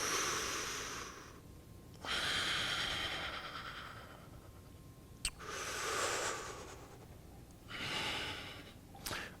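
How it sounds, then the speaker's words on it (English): Slow, deep breaths during a yoga plank hold: long airy inhales and exhales, close but soft, in three or four drawn-out waves separated by quieter pauses. "2 more breaths here."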